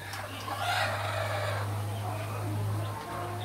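Laying hens in a backyard poultry flock cluck in short overlapping bursts over a steady low hum, moderately close and with no talk.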